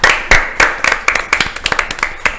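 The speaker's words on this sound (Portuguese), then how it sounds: "Uma salva de palmas, gente." Audience applause at a school talk on computer engineering careers, starting as a few sharp, loud claps and spreading into steady clapping from a small crowd, close and without talk.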